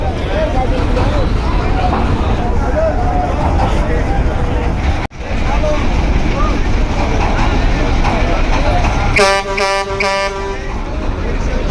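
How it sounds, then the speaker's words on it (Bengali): Loud, steady engine rumble and broadband roar aboard or beside the MV M Khan 7 river launch, then a deep, tonal horn blast sounding in a few pulsing bursts near the end. "আবারও দুর্দান্ত হরেন দিয়ে এগিয়ে গেল এমবি এম খান সাত লঞ্চ"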